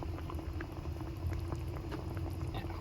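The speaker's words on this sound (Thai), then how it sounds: "ก็ลวกนะครับลวกให้ร้อนนิดนึงนะครับ ก่อนที่จะเอาขึ้น" Mixed meatballs blanch in a pot of boiling water. Dense, steady bubbling and patter carry on close by without a break.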